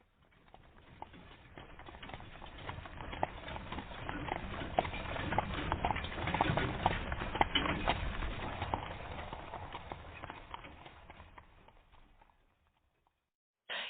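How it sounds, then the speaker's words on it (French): Hooves of a carriage drawn by eight white horses in golden harness, a steady clip-clop that swells louder toward the middle and fades away near the end. "on vit arriver une voiture attelée de 8 chevaux blancs"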